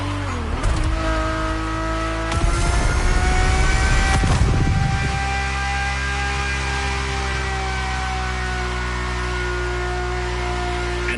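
Race car engine in The Crew Motorfest, heard from inside the cockpit: a steady, tonal high-revving drone with a couple of rougher throttle surges early on, then a sustained even hum.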